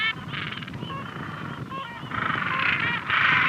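A gentoo penguin colony in the Falklands calls with honking, braying cries that overlap and rise toward the end, heard fairly close over a low background murmur.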